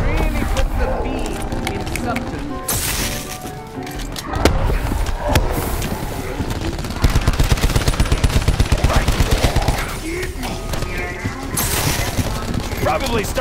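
Shotgun fire in the Call of Duty Black Ops 4 shooter booms in loud bursts. A rapid run of evenly spaced shots comes midway, mixed with game music and effects, and a voice talks over parts of it.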